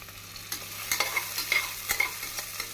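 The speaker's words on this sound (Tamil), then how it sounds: "வெங்காயம் 1 நிமிடம் நன்றாக வதங்கவும்" Onions with curry leaves and salt frying in a pan for vegetable biryani, stirred with a spoon that makes distinct scraping clacks over a soft sizzle, close by and without talk.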